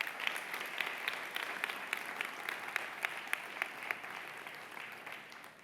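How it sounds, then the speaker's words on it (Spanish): Church congregation applauding steadily throughout, a dense wash of many hands clapping at moderate volume with scattered sharper claps standing out, no voices on top. "¿Quién le puede dar un aplauso a Cristo por eso?"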